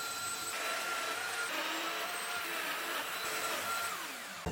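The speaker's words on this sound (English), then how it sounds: "I know these machines are expensive, and for a wedding arch it's a little bit overkill" A wood planer machine planes lumber for a wedding arch, giving a loud, steady high-pitched whine and rushing roar that holds evenly before cutting off abruptly at the end.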